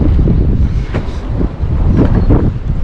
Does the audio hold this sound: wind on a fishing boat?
yes